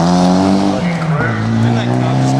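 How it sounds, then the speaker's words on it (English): A rally car races past at the 2006 Rally of South Australia, its loud, close engine roaring with a strong tone that drops in pitch as it goes by, with commentary voices underneath. "Didn't that car just go past?"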